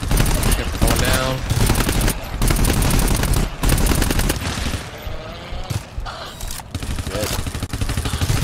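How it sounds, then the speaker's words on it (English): Automatic turret fire in the co-op shooter game GTFO, loud rapid bursts hammering almost without pause, with brief gaps, while a player swears under the gunfire. "Turret just melted me. I'm dead. The turret killed me."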